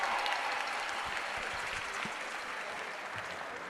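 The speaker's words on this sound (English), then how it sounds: "Let's give our cheerleaders a nice round of applause as they leave the stage." Audience at a school district convocation applauds cheerleaders leaving the stage, a continuous wash of clapping that tapers slightly toward the end.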